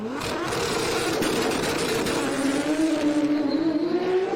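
A six-speed drag racing car launches and accelerates hard down the strip at a summer drag racing event, its engine a loud sustained roar that climbs in pitch through the gears, heard from nearby.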